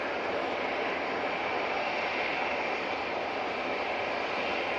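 A TUI airliner departs Manchester Airport for Corfu, its engines a continuous dense roar with a broad hiss that stays level across the whole stretch, heard fairly close and without speech.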